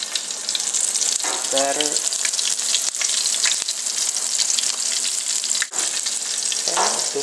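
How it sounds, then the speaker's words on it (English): Battered chicken pieces fry in hot grease with a loud, constant, close crackling sizzle, and a voice speaks briefly over it. "You don't want to just drop it in grease and wait for it to drown in grease before it starts cooking"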